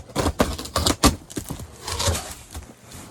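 A blade slices open a big cardboard box in a quick run of sharp scrapes and tearing cuts, close and loud, with no one talking.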